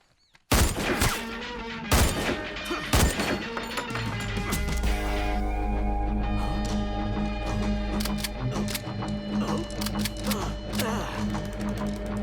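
Gunfire erupts in an action movie: a few sharp, loud single shots ring out, then a sustained booming blast with a rattling burst of rapid fire layered over a dramatic music score.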